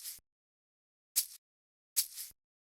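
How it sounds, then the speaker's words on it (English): Shaker in a hip-hop beat, three short isolated bright hits, the first very brief, the second and third slightly longer swishes, each separated by silence and fairly quiet. "this shaker right here,"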